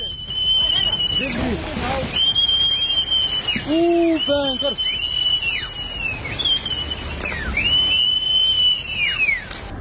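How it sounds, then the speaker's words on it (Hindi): Shrill whistles blow repeatedly as people warn others of a landslide during heavy rain in the mountains, several long piercing blasts over a constant roar of rushing water, with a voice talking briefly in between. "ये लोग सीटी बजाकर बाकी लोगों को सावधान करने की कोशिश कर रहे हैं"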